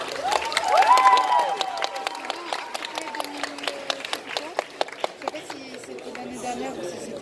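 Audience clapping at a cosplay contest at a Japan convention in Nantes, swelling briefly and then thinning to scattered claps, with chatter and voices talking over it throughout.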